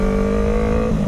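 A Yamaha R3 motorcycle engine holds a loud, steady high rev around 7000 RPM, a continuous close buzzing drone with no voices over it.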